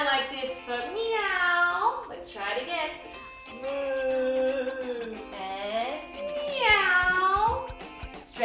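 Children's voices imitate a cat's meow, several drawn-out sliding meows in a row with pauses between, led along by an adult voice speaking in between.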